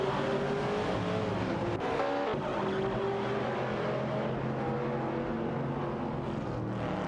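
Race cars in a racing video game, a Ford Falcon and a Holden Torana A9X, run a steady close engine drone with layered revving tones and faint tire noise throughout, loud and unbroken.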